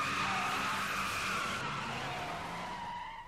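Tires screech as a car brakes hard and skids in an anime episode, one long sustained squeal that holds strong and slowly fades toward the end.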